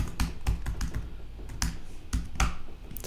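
Close, quick typing on a computer keyboard comes in irregular bursts of sharp clicks with short pauses, alone without any voices.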